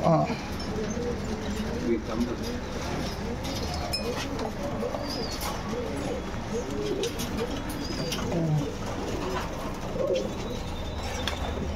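Old line pigeons, an old breed kept in a loft in Bangalore, coo in soft repeated rolling calls throughout, with several birds overlapping at moderate distance and people talking faintly in the background.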